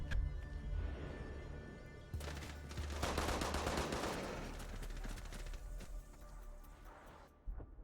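Gunfire fills a competitive shooter video game match: bursts of automatic fire and scattered shots crackle at moderate distance, swelling in the middle and tapering off near the end.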